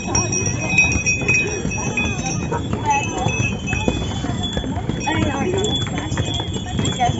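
Donkeys' hooves clip-clop steadily on a steep, slippery descent in Santorini, a busy patter of many close footfalls with faint bells, while people talk over the trampling.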